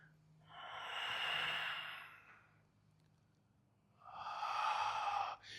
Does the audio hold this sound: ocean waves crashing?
no